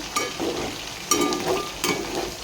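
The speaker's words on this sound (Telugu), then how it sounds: "మన చికెన్ కూడా ఆల్మోస్ట్ ఫ్రై అయిపోయింది" Chicken pieces frying in hot oil for gongura chicken pickle, a steady close sizzle with three sharper bursts as the pieces are stirred.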